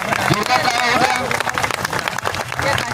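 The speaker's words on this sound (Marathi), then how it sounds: "सर्वांनी टाळ्या वाजवा एकदा" A crowd claps at a revenue staff protest rally at Samvidhan Chowk, Nagpur, with loud, sustained applause and cheering filling the whole stretch while someone speaks over it.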